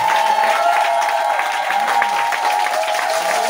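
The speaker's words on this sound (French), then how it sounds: "Est-ce qu'on peut se lever et acclamer puissamment le Seigneur pour ce jour?" A church congregation claps and acclaims the Lord together, steady dense applause filling the room at close range with a faint sustained tone beneath, continuous throughout.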